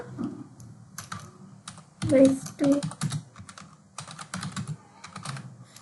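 Typing on a computer keyboard while composing a Gmail message, with bursts of close, quick key clicks that pause and resume, and louder clusters of strikes near the middle.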